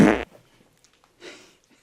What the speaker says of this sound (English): if you're passing that gas super fast, it's more likely to be loud